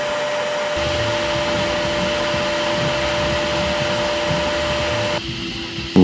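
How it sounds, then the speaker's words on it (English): A vacuum cleaner runs steadily inside a Toyota Corolla's cabin, a loud continuous whine with a high tonal hum that shifts slightly near the end as the nozzle moves. "let's vacuum the whole car while we wait for it to dry."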